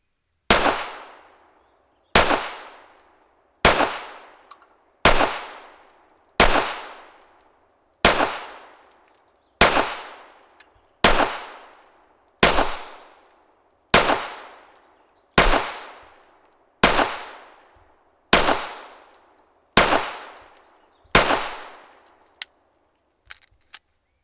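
Sixteen pistol shots fired through a handgun fitted with an Apex threaded barrel and a Strike Industries compensator, sharp loud cracks with decaying echoes, evenly spaced about every one and a half seconds, with no talking.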